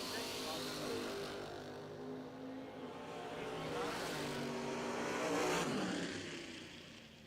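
Engines of bracket-racing cars, a pair of wagons on the starting line at a drag strip, rumble and swell into a long rising roar that peaks and fades, heard from a distance with an announcer's voice over the top.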